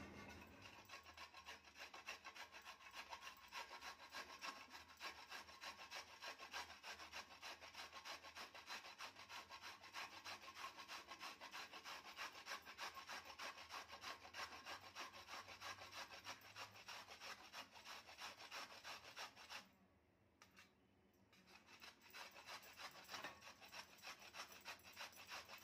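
Fresh coconut being grated by hand on a kitchen grater, a continuous fast scraping rasp that runs steadily with a brief pause near the end, recorded close and faint, without speech.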